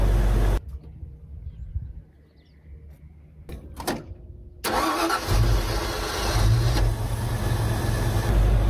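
A stock Ford engine with a recurved distributor, timing set at idle, cranks and catches after a quiet gap, then settles into a steady, loud idle close by.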